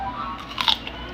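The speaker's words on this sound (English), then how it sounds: "Do you guys hear the crunch?" A bite into a crunchy homemade pickle gives one brief, crisp crunch up close, set against a quiet background.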